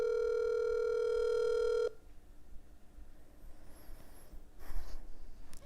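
A telephone rings with one steady electronic tone for nearly two seconds, then cuts off, leaving a quiet room with faint rustling and small knocks.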